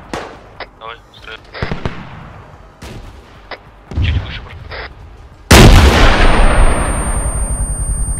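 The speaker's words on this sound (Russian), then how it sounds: "Если будешь стрелять, скажи, я тоже потом выстрелю." Gunfire in the military shooter ArmA 3, with scattered sharp shots and distant reports followed by a loud, close blast that rings out and decays, dense and booming over the rest.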